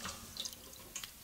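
Tap water running into a sink, a faint and thin splashing trickle with a few brighter droplet sounds, quiet and with no talk.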